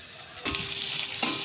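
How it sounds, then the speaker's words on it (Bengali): Onions frying for biryani over a medium-to-low flame, a steady close sizzle with a louder burst of crackle partway through and brief stirring scrapes, no voices. "আমি পেঁয়াজগুলো ভেজে নিচ্ছি মিডিয়াম টু লো ফ্লেমে।"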